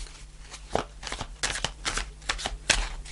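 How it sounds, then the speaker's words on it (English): Tarot cards shuffled by hand up close, a series of quick riffling flicks and soft slaps in an uneven rhythm, ending with a sharper snap as a card is pulled. "I'm going to pull one more card."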